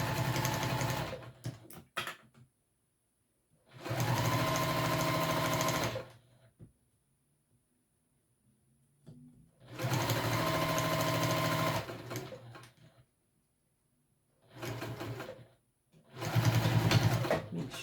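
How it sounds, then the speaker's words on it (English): A sewing machine runs in four or five separate loud bursts of steady motor whir while stitching the two long edges of a Summit Pack, with short quiet pauses between runs and no talk. "And we're only sewing the two long edges."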